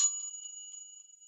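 A struck bell rings with a clear, pure tone that hangs on and slowly fades, its overtones sustaining steadily with no other sound.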